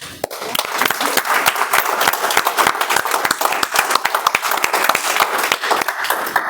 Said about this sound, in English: A huge round of applause for our contest master, ladies and gentlemen.